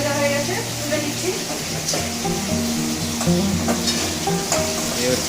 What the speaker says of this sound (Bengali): ইলিশ মাছ একদিকে ইলিশ মাছ ভাজা হচ্ছে আর একদিকে পটল ভাজা হচ্ছে